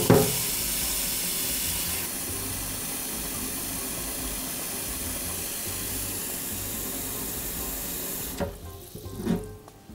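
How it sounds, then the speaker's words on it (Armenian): Tap water runs steadily into a kitchen sink while stuffed chicken is being prepared, a full close rush lasting about eight seconds before cutting off, followed by a few soft clatters. "Սրա վրա ջուր ենք լցնում և արդեն միացնում ենք"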